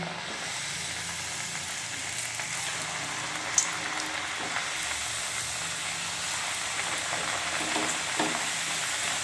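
Thattai rice-dough snacks frying in hot oil, giving a steady, dense sizzle and crackle throughout with a brief sharper pop near the middle; no talking.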